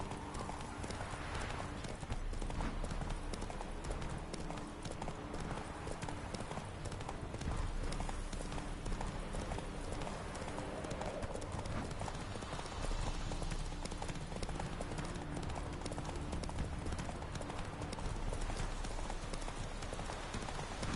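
A horse gallops in the video game Witcher 3, its hooves beating out a fast, steady, continuous rhythm close by, with a voice speaking briefly over it.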